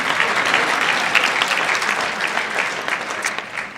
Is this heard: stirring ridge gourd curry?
no